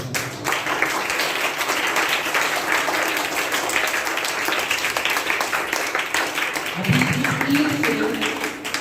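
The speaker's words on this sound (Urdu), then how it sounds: "آپ کے لیے بھی خدا کا شکر کرتے ہوئے ایک دفعہ بھرپور تالیاں بجاتے ہیں" A church congregation applauds for the Feast of St. Columbans with sustained, dense clapping at an even level throughout, and a voice briefly rises near the end.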